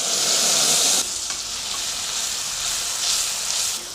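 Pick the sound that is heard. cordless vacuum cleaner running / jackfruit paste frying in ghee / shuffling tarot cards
jackfruit paste frying in ghee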